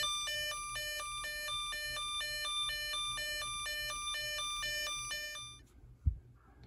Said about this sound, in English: and then a European siren.